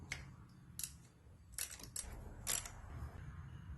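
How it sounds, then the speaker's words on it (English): A 12mm bolt is being worked loose from an Acura CL/TL or Honda Accord transmission, with faint sparse metallic clicks and ratchet taps under a low background hum, no speech. "Now we're going to attempt to remove the 12mm screw right here."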